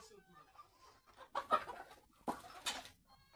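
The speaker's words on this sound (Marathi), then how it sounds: "बघ कशा कोंबडे" Chickens cluck in a few short bursts, fairly close, with quiet gaps between them and a faint background hum.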